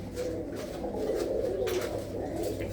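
Soft, continuous cooing from several pigeons kept in a loft near Amritsar, overlapping warbling calls that run without pause over a faint background hum.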